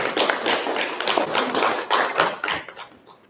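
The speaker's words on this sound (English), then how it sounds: "Ready to give her a round of applause." An audience applauds a student at a school assembly with dense, steady clapping that swells and then tapers off after about three seconds.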